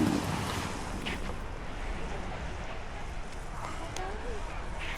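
Steady ocean surf at Acuatico Beach Resort rushing and washing continuously, mixed with gusty wind buffeting the microphone.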